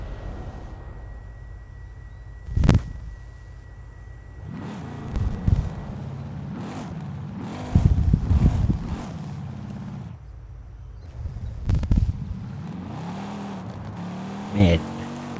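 Car engine in the racing game Forza Horizon 5, a steady engine drone with repeated revving bursts, under casual conversation between players.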